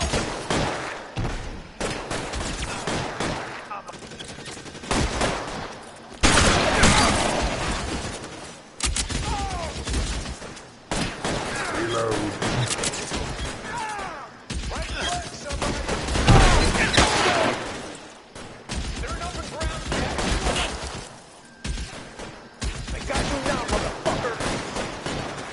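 Heavy shootout gunfire in L.A. Noire, dense overlapping shots and bursts throughout, loud and near, mixed with shouted voices and game sounds.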